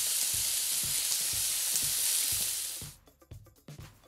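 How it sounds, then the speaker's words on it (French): Beef and cheese yakitori skewers fry in a pan with a loud, dense sizzle and faint periodic ticks, then the hiss abruptly drops away, leaving a few scattered clinks and pops near the end. "passe à la cuisson des brochettes yakitori"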